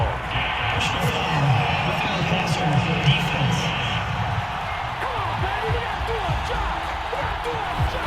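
A football video game crowd (Bears at Vikings preseason) reacts to a roughing penalty call with a sustained, moderately loud rumble of disapproval beneath play-by-play commentary.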